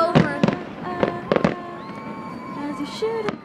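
A cluster of firework explosions pops and cracks in quick bursts early on, then thins to a single bang near the end, all over a sung pop tune playing along.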